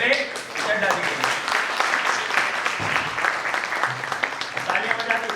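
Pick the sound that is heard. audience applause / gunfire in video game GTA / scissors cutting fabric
audience applause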